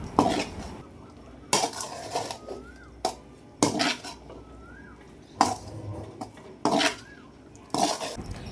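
A utensil mixes cooked tomato rice in a metal pot, giving intermittent scraping and clinking strokes every second or two with quieter pauses between them, close and moderately loud.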